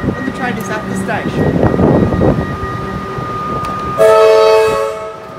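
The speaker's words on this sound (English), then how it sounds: "When the train is at the station." Train rumble and clatter at Carnegie station with a voice talking over it, followed by a loud sustained horn blast near the end.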